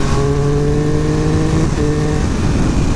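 A Triumph Speed Triple 1200 RR motorcycle accelerates hard with the front wheel lifting, a loud, close engine roar climbing in pitch, dipping briefly at a shift, then rising again.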